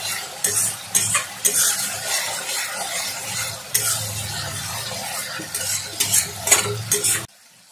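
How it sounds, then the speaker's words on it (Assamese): Masala with softened onion and tomato fries in a pan while a utensil stirs and scrapes it, giving a steady close sizzle broken by repeated clinks and scraping strokes, with no voices. "চাওক মছলাটো মই ভাজি ইয়াত পিঁয়াজখিনিও ধুনীয়াকৈ গলি গ'ল"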